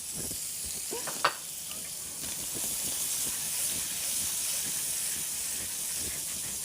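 Butter sizzling in a hot pan over lowered heat while scallops cook, a steady close hiss and crackle throughout with a single sharp clink near the start.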